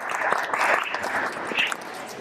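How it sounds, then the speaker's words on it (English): An audience at a castle costume fashion show, where a model wears an early-1400s lady's gown, gives a short burst of clapping with a few raised voices mixed in. "And give us a round of applause."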